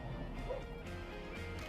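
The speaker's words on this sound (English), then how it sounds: "There's a dog barking at me" A dog barks outdoors a few times, the short yaps fairly faint and somewhat distant against a low background rumble.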